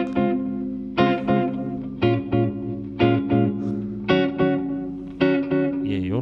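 Guitar played through a slapback delay on a DemonFX Reverb & Delay Workstation pedal: distorted chords and single notes, each plucked attack followed by a quick short repeat, in bursts over about six seconds with no talking.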